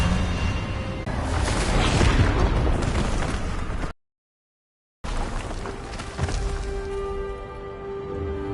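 Expelliarmus spell cast in Hogwarts Legacy, a loud crackling magical blast with bursting rumble lasting several seconds, a sudden moment of dead silence, then further whooshing energy and ringing tones.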